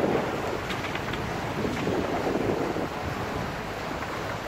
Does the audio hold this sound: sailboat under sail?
yes